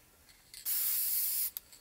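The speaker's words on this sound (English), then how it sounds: "And then I use this Krylon matte spray." A Krylon matte spray can releases one steady, loud hiss lasting just under a second, preceded by a short test puff and followed by a brief final spurt, close to the microphone with no talking.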